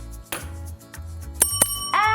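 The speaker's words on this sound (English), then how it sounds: "why don't we make it official and ring the bell?" A bicycle-style bell is rung to start a class in session, giving several bright, sharp rings in quick succession, the last one sustained a little longer, close and clear with no talking.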